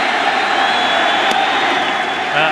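Steady crowd roar from a baseball stadium during Cecil Fielder's at-bat at a 1997 Mets–Yankees game, a dense continuous wash of cheering and whoops held at a fairly loud level throughout.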